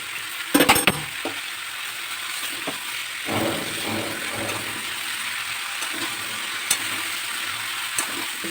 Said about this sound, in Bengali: মশলাটা আমার কষা হয়েছে, লাউগুলো দিয়ে দেবো।